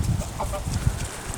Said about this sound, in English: Yeah, it's a chicken.